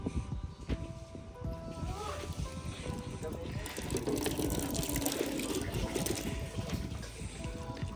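Water runs and gushes steadily at a mountain water source on Mt Apo, getting fuller toward the end, with a voice talking over it.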